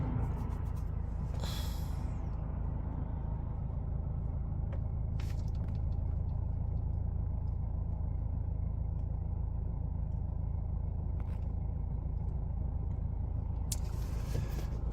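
A Mercedes E250 combustion engine runs roughly during a failed start, giving a steady low rumble with faint uneven sputters and hisses. A few brief higher bursts break through, and the engine is heard alone with no talk.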